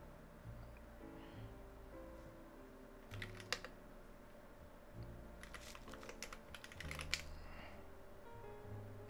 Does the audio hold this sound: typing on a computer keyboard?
yes